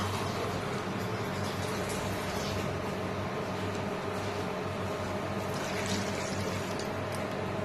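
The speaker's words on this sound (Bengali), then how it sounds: "ভালো করে জল দিয়ে দিলাম" Water poured into a pan of tilapia curry in oil, a steady continuous splashing stream that fills the whole stretch at moderate level, with no talk.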